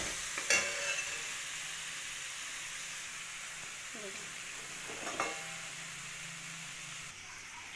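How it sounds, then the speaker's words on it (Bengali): Red amaranth leaves and potato stir-fry in a wok with a steady dry sizzle, broken by a few sharp spatula scrapes against the pan bottom, close and alone. "দেখুন ভাজা ভাজা হয়ে গেছে বলে কড়াই তলায় লাগছে"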